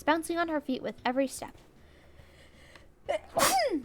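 A single sharp sneeze bursts out near the end, loud and close, after a stretch of speech and a quiet pause.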